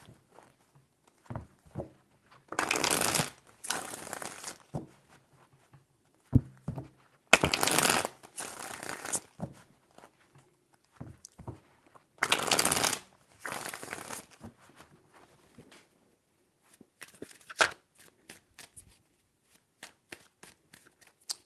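Tarot cards are shuffled in several distinct bursts of crisp riffling and flapping, each lasting about a second, separated by quiet gaps with soft handling taps, close and clear.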